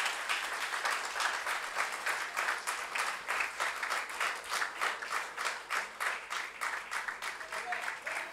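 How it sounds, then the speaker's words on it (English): Audience applause at a book launch for an actress's autobiography, rhythmic clapping in pulsing waves throughout, fairly close and sustained. "A big round of applause"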